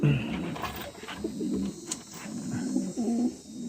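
Pigeons cooing in a loft after a hawk threat, a steady chorus of low, throaty coos close by, with faint background hiss and some bird movement.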